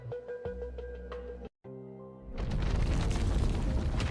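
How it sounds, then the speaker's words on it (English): A tonal musical passage cuts out abruptly, then a loud, sustained roaring explosion of a collapsing lab in a video game story rumbles on without letup. "The sounds of explosions rings out."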